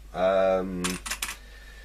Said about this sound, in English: it's a reasonable keyboard to type on